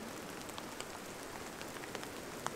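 Rain patters steadily on a tent during a bike-camping stay near Breckenridge, Colorado, a dense, even hiss of drops with occasional sharper close taps and no talking.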